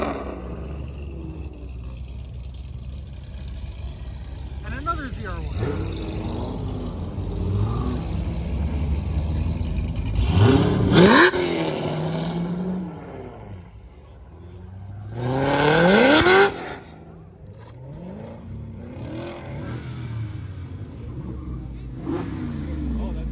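Cars revving and accelerating hard out of a Cars and Coffee meet, with a Cadillac Escalade and Corvette ZR1s among them; two loud surging passes stand out over constant engine rumble and crowd chatter.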